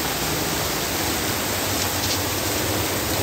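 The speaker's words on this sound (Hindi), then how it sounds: "बहुत ही भयानक बारिश हो रहा है" Very heavy rain pours down steadily, with water running off a metal roof sheet, a dense, continuous broadband hiss close by with no voices.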